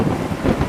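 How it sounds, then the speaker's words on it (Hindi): Thunder rumbles low and heavy through a rainstorm in a forest, a brief loud roll mixed with the hiss of falling rain. "आसमान गड़गड़ाया"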